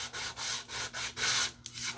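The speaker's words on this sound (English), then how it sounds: "nobody likes sanding," Rhythmic rubbing strokes of sandpaper on wood, about six back-and-forth passes, close and moderately loud, with no voices.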